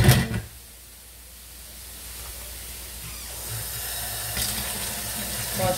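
Tap water runs steadily into a kitchen sink while hands are washed beneath it, starting with a brief clatter and then a constant hiss for several seconds, close by with no talk.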